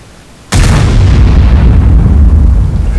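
A single loud tank cannon shot in World of Tanks, fired from an AMX 50 B: a sudden sharp boom that rolls into a long, heavy rumbling decay, heard alone.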